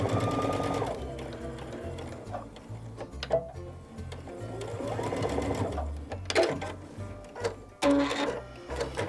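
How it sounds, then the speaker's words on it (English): Sewing machine stitching across the short end of fabric for a bow pillow, guided along a J-foot with backstitching at each end; close, rhythmic mechanical whirring in bursts with brief pauses between runs. "this time we're going to sew across the short end"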